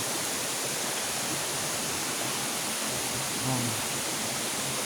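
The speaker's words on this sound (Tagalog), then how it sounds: "Isang napakagandang lugar. Pasyalan. Itong falls nila." Steady broadband rush of water pouring down Tagkuriring Waterfalls in Barangay Simpukan, a loud, constant roar filling the whole stretch with no breaks.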